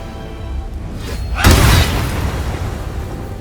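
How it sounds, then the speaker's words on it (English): A Booming Blade spell attack in Baldur's Gate 3 strikes as one heavy boom with a whooshing, crackling burst, rising out of a low rumbling ambience and fading into a lingering roar. "Go booming blade"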